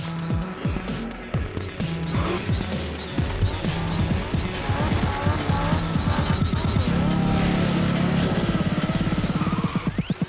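Racing cars from the video game Need for Speed Underground, with engines revving and shifting continuously and loudly over a steady backdrop, rising into a sustained roar near the end.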